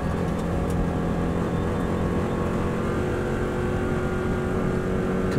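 A Subaru WRX STI runs flat out in sixth gear on an Isle of Man lap, its engine loud and steady at full throttle, mixed with heavy wind and road rush.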